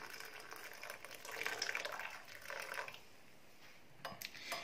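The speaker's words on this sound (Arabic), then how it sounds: "ده كده الميه المغليه اهيت، دول كوبايتين على ليمونه واحده" Boiling water is poured from a kettle over a lemon in a cup, giving a steady airy splash that rises and falls for a few seconds and then trails off into a few small drips and clinks.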